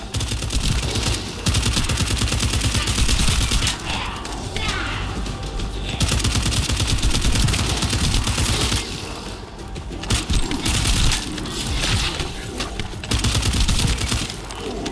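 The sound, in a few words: gunfire in a video game, The First Descendant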